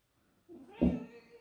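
An elderly shorthaired cat meows once during matted fur removal: a single clear, close meow that swells and fades over about a second in a quiet room.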